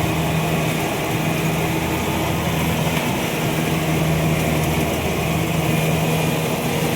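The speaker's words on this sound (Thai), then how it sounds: "เดี๋ยวให้เบิ้งรอบเครื่องนะครับ" The engine of a decorated rice combine harvester runs at a repair shop. It gives a loud, steady, high droning hum with a constant tone and no sharp rises in revs.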